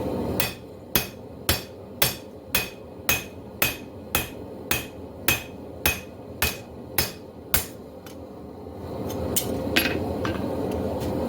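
A blacksmith's hammer planishes both faces of a forged steel herb chopper blade in a steady series of bright, ringing strikes about twice a second. The blows stop and a softer shuffling noise follows. Close, with no voice.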